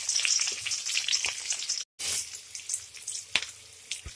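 Onion, mint and curry leaves fry in hot oil, giving a steady close sizzle with crackles and a brief break partway through.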